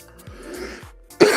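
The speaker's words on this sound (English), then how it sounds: "Having a good cough." One person gives a couple of rough, throaty coughs up close, ending in a louder, harsher burst.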